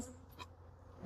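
Faint buzzing of honeybees flying close by around an opened hive, a soft insect hum in an otherwise quiet moment.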